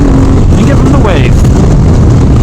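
A 2022 Triumph Speed Twin motorcycle with a quickshifter accelerates smoothly, its engine note climbing steadily and close under loud wind rush, with no pause in the pull between gears.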